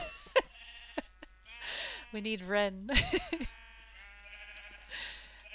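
Sheep in a modded Minecraft world let out several short, wavering bleats, scattered and fairly close, mixed in with a person talking.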